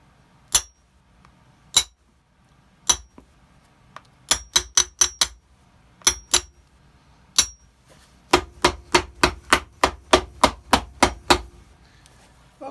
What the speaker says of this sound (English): Cover your ears, children. It's hammer time.